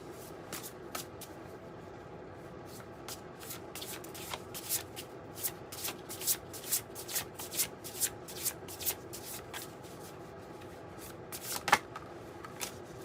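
A deck of tarot-style cards is shuffled by hand close up, giving soft rhythmic riffling slaps repeated many times at a quiet level, with no talk.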